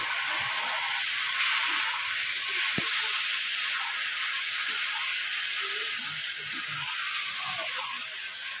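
Steamed taro leaves drop into a pan of lightly fried prawns with a single soft thud, then a loud, continuous hissing sizzle of hot oil carries on steadily up close.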